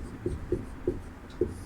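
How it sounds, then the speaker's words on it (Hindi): Chalk or marker strokes on a classroom board as an answer is written out: four short, evenly spaced taps and scrapes, close and fairly distinct, with no voices. "तो उत्तर हम लिखेंगे यहाँ पर"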